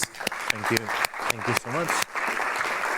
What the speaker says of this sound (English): If you can just round of applause for our presenters.